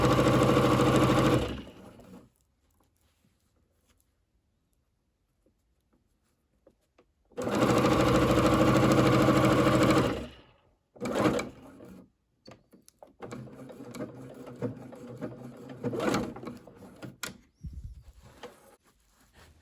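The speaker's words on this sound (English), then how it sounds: "I have my sewing machine on a plastic folding table, and so that's why it shakes so bad." A sewing machine runs on a wobbly plastic folding table while patchwork coaster pieces are stitched, with two sustained loud bursts of motor whir separated by silence, then shorter stop-start runs and handling clatter toward the end.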